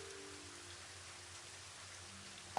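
Steady rainfall in the Elder Scrolls 2 game world, a constant soft hiss of drops with no break, with one brief sharp knock near the end.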